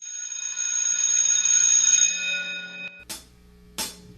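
A bell rings with a bright, sustained metallic tone that fades out over about three seconds. Two sharp, loud knocks follow.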